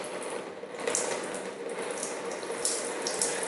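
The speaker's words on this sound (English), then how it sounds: "And then when I have drained out all of these oils, we continue." Old automatic transmission fluid drains out of a car in a steady, close pouring stream, a continuous liquid rush with a few faint metallic clicks over it.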